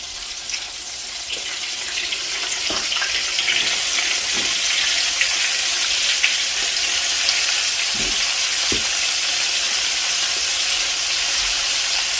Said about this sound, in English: you're gonna hold it from the tail, so it's more safe when you fry it.